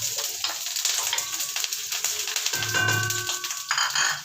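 Onions frying in a little cooking oil, a close crackling sizzle with scattered clinks of a utensil, and a brief metallic ring near the end.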